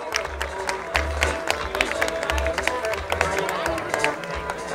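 A festival opening-night audience claps steadily in a hall, a dense patter of applause with some low rumble underneath, continuing throughout.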